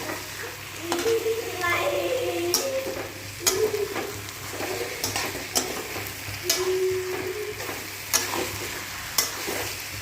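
Marinated duck meat being stirred with a spatula in a hot kadai, loud close sizzling with repeated scraping strokes of metal, while a voice talks faintly in the background.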